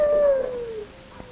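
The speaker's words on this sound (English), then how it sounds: "husky dogs tell us we're in the land of Eskimos." Husky dogs in an Eskimo village on Alaska's winter west coast let out a single short howl that slides downward and fades, heard alone without talk.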